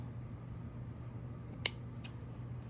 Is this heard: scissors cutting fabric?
yes